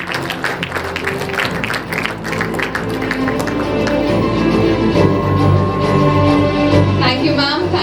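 Applause from the audience at a school investiture ceremony for the student cabinet: sustained clapping that swells and stays dense throughout, mixed with background music or tones and some crowd noise.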